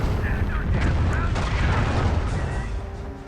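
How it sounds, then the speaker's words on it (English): In Company of Heroes, an air bombardment sets off a rapid cluster of booming explosions and crackling blasts close together, with a voice talking over the battle din. "The air bombardment."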